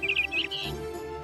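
Small bird chirping at its nest in a short run of bright, quick high-pitched tweets, close and fairly clear, fading into a soft outdoor background.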